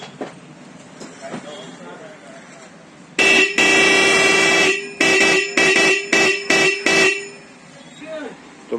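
A loud aftermarket car horn is tested at a shop, sounding one long blast followed by a run of short rhythmic honks, close and piercing, with quiet talk before and after.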